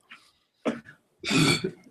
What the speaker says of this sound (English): I got a cough. I don't want to keep coughing.